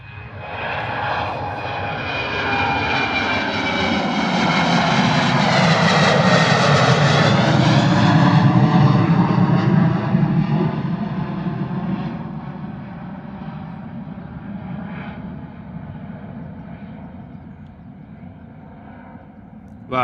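A Ryanair airliner climbs out of Bristol Airport with a loud, rising jet engine roar that swells to a peak mid-clip, then gradually fades into the distance.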